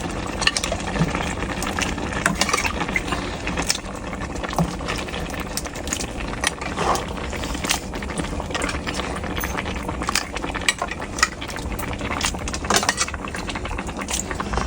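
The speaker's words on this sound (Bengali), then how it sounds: "আমি এখন মাংস মিশিয়ে দিচ্ছি" Meat being stirred by hand into nearly cooked pilau rice in a pot, with steady scraping and stirring noises and a faint sizzle, close and continuous without speech.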